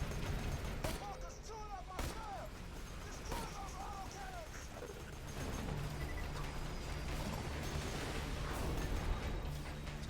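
Gunfire and autocannon bursts in the video game Borderlands 2, with repeated sharp shots and heavy booming blasts amid mechanical clatter and game effects, loud and continuous, while players talk over it.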